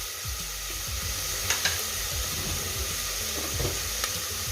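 Onions and tomatoes sauté in a pan with a steady, close hiss of frying, broken by a few soft scrapes and taps of a stirring spoon.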